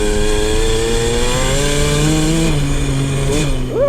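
Small two-stroke engine of a KTM 50 dirt bike with a carburetor tuning problem, buzzing loud and close as the throttle is worked, pitch climbing and dipping through quick revs.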